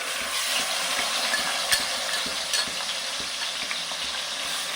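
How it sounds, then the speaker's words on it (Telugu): Thinly slit green chillies and onion paste fry for a tuna curry, giving a loud, steady close-up sizzle with faint scrapes and taps of stirring throughout. "పచ్చివాసన పోయేంత వరకు ఫ్రై చేసుకున్నాం."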